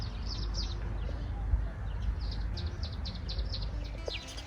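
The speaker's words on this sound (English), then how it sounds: "Listen to those birds." Small birds chirp in quick repeated bursts around a house in Zambia, fairly faint and a little distant over a low rumbling outdoor background.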